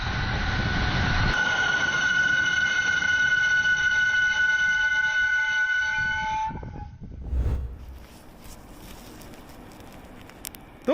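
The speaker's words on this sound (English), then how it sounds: "Those sparks almost make it look like the train's forging its own path through the freezing night" A train runs on rails through a freezing night with sparks flying, heard as a loud sustained grinding roar carrying steady high screeching tones that cuts out partway, leaving a faint rumble and scattered clanks.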